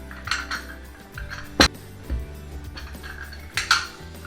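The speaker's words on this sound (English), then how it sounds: "we are going to use our lime and lemon press, which is made out of metal" A sturdy metal lime and lemon press squeezes limes in a home kitchen. Several sharp metallic clanks and clicks come in separate bursts over quiet, close background handling noise.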